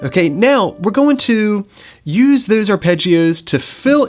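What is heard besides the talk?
No everyday noise stands out behind the speech.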